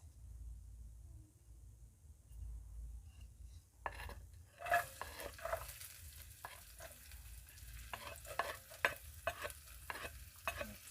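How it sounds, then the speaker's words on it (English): Onions added to a little cooking oil in a sufuria for egg curry, starting with a low background hiss, then sizzling and frying with a series of stirring scrapes and clinks against the pot, close by. "cooking oil into our sufuria, just a little bit of it, that is enough. Add our onions."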